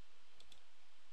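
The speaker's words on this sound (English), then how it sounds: "On our keyboard we're going to hold down the Alt key while pressing the number" Two quick, faint plastic clicks of keys pressed on a computer keyboard while entering an Alt code, isolated against a quiet background.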